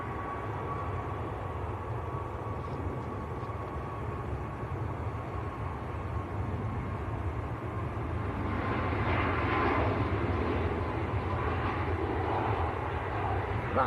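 An Aer Lingus ATR turboprop arriving from Belfast at Manchester Airport, a steady distant engine drone that swells slightly louder in the final seconds, with faint voices in the background.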